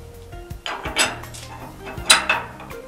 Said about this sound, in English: Now replace the mincer worm and the knife and the mincer plate.